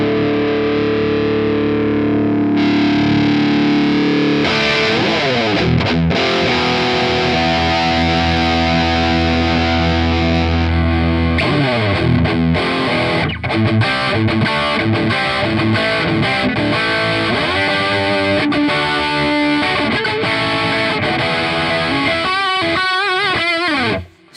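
Electric guitar played through a free amp simulator using SLO amp models, loud and heavily distorted, with sustained chords shifting into fast chugging riffs for about twenty-four seconds, no voices.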